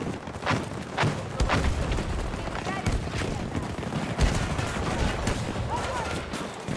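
Dense gunfire in the video game Battlefield 2042, with repeated sharp shots and bursts over a busy, rumbling battlefield backdrop while a voice speaks intermittently.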